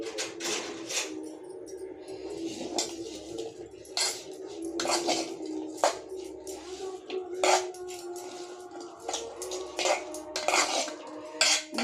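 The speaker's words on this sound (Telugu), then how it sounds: "ఇదైతే ఇప్పుడు కొంచెం మిక్స్ చేసేసుకోవాలి" Uthappam batter with cumin seeds being mixed in a steel bowl: a spoon clinks and scrapes against the metal in quick, irregular strokes, close and moderately loud, with a soft wet squish beneath.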